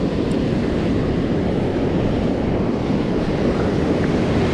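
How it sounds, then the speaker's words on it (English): Ocean surf crashes and rolls steadily onto a beach during surf fishing, a loud continuous wash of broken waves with wind buffeting the microphone and no voices. "Oh, watch them waves, guy."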